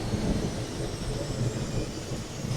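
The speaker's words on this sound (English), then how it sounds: "I hear a thunderstorm." Steady low rumble of a thunderstorm in the airport management game Airport CEO, a continuous dull roll with no distinct cracks.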